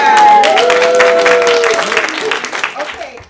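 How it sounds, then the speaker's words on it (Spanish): An audience at a Spanish-language women's health and success panel event applauds, the dense clapping starting loud and tapering off over a few seconds while voices cheer and call out over it. "¡Aplaudan!"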